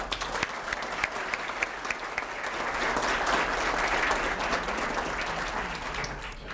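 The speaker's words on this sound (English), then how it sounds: "another wonderful round of applause for them." Sustained applause from an awards audience honoring winners at a leading women recognition event, steady dense clapping that swells slightly midway and continues throughout.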